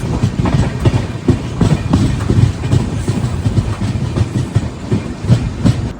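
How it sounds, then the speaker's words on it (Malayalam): The Tutari Express, an overnight train to Dadar hauled by a WDP4D diesel locomotive, rolls past close and loud with rhythmic clickety-clack of wheels over rail joints and a steady rumble. "ദാദർ പോകുന്ന തുത്താരി എക്സ്പ്രസ്."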